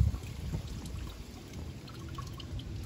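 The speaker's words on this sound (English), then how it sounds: "It's totally draining the radiator." Old coolant draining out of a 5.7 Hemi radiator, a soft continuous trickle and pour with faint splashing, quiet and steady throughout.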